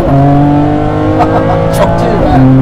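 A Ferrari 599 GTB pulls away hard from a launch control start on an uphill stretch, its engine note rising steadily and loud throughout, with voices talking over it.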